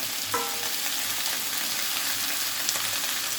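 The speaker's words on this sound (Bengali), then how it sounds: "এবার ভালো করে সবজিগুলো ভেজে নিব।" Potatoes and beans fry in a pan with a steady, close sizzle and brief scraping stirs, continuing evenly throughout with no talk.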